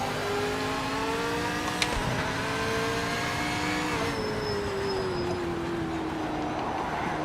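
A Chevy Gen 3 V8 race car engine, around 5.7 or 6 litres, drones loudly in a racing game, holding a steady high rev before the pitch eases down as it shifts and settles into a long, even roar.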